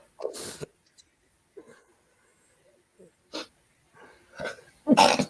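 A person sneezes sharply at the start, followed by scattered sniffs, breaths and brief vocal sounds, with another loud burst near the end, recorded close and otherwise quiet.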